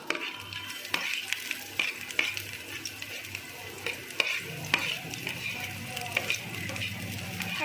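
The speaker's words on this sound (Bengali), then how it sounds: "এবার ভালো করে ভাজবো।" Chopped onion and green chili frying in a little oil in a hot pan, a steady soft sizzle broken by repeated clinks and scrapes of a spoon stirring against the metal.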